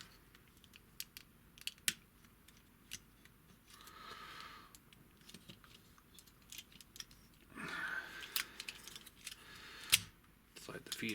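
Plastic parts of a Transformers Unique Toys Warlord figure being folded together, giving scattered clicks and snaps with sharper ratchet-like bursts around the middle and near the end.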